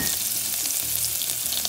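Chopped onions sizzling in a little oil in a pan as the base for Puerto Rican sofrito, a steady dense crackling fry filling the whole moment up close, with no talking.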